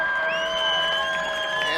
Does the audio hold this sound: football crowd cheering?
yes